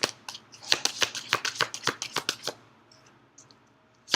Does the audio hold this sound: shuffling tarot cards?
yes